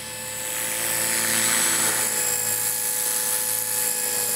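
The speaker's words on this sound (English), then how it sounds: "Huge speed increase on the motor there." Motor of a Blade 300X RC helicopter spooling up close by, with a loud, high whine rising in pitch and holding steady without speech.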